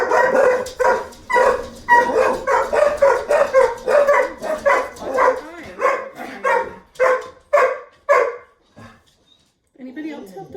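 Dogs bark in a rapid, loud, steady run of about twenty close yaps, slowing and thinning out toward the end, with a brief gap before a final softer sound.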